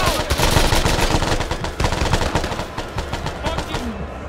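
Rapid automatic gunfire crackles in Arma 3, a Vietnam-era combat game, with dense bursts of shots close and loud throughout before easing slightly at the end.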